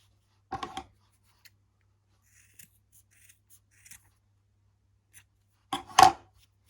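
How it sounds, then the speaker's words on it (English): Scissors cut and trim a yarn tassel on a crocheted heart keychain: two distinct close snips several seconds apart, with a few faint handling ticks in the quiet between. "now I'm gonna cut this part, my tassel, and trim it."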